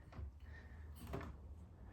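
An RV drawer or tip-out slides and shuts, giving two soft, faint knocks about a second apart in a quiet interior with no talk.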